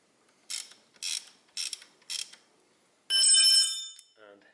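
Wrench or ratchet working on a brake caliper bolt of a 1991–2000 Toyota Corolla during a front brake pad change: four short, close metallic ratcheting bursts at a steady rhythm, then a longer bright ringing rasp as the bolt turns.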